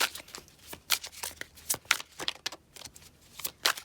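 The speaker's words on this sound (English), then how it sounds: "if the shuffling takes a while, I may cut out a little bit" Tarot cards are shuffled by hand at close range, a quick series of crisp riffling bursts with short pauses between them and no talking.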